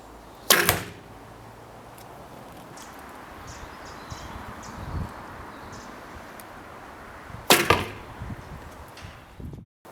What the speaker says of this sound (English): there's a little bit of noise from the string hitting my arm guard